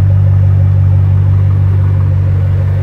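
A 2008 Ford Mustang GT with dual exhaust idles close by, a loud, steady low rumble with a constant hum and no revving.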